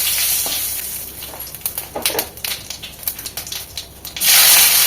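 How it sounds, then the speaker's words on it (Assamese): Whole cumin seeds and a bay leaf sizzle in hot oil in a kadai, a crackling spit of rapid pops and bursts, swelling into a loud continuous hiss at the end. "আকৌ মই কেৰাহীখনত তেল দি ল'লোঁ আৰু ইয়াতে মই জিৰা দি লৈছোঁ"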